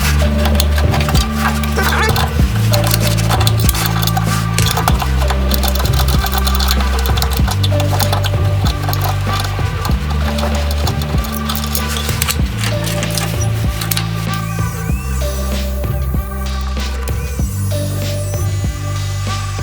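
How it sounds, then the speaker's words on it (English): A power grinder works on the air intake horn of a Toyota Starlet with a BEAMS 3S-GE engine swap. It gives a loud, continuous whirring buzz with a throbbing rhythm, surging and easing as the tool bites into the metal. "I also marked out here my air intake horn, where I need to grind on that guy."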